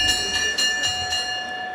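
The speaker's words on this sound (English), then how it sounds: "Go ahead. Ring that bell." A boxing ring bell is struck rapidly at the end of a professional title fight, about six quick metallic clangs with a sustained ringing tone over arena noise.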